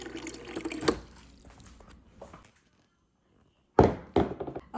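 Tap water pours into a cooking pot of sliced cabbage for corned beef for about a second, followed by quiet and then a few close, hollow thunks of the pot being handled.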